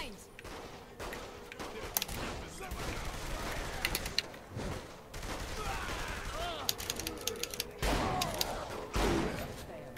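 Gunfire bursts and rapid shots from the Saints Row: The Third video game, a dense fusillade of repeated cracks across the whole stretch with intermittent voice underneath.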